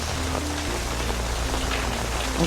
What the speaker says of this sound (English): I'm sure you guys can hear the sound of this rain.